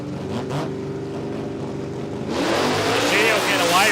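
A rotary-engine drag racing car at a dragway event bursts into a loud, harsh rev partway through, with steady engine drone before it and a commentator talking.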